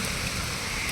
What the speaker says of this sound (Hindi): तो गाइस बारिश तो रुक नहीं रही है